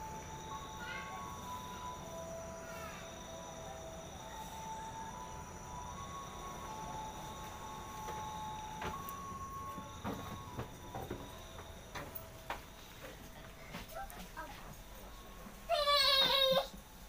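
A passenger rides in the last carriage of the Progo train, with a low continuous rumble of the moving rail car throughout and some faint tonal squeals. A brief high whining sound comes near the end.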